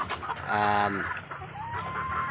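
Layer hens on a poultry farm, close clucking and drawn-out cackles from several birds over a constant background of flock noise.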